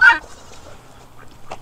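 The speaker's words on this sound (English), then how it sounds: "Just some chickens." A loud squawk from a fowl opens, followed by quieter scattered clucks and a brief call near the end, all close by.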